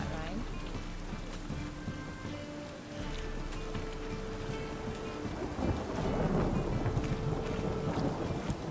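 Steady rain pours with rumbling thunder underneath in the video game The Witcher 3: Wild Hunt, while voices talk over the storm.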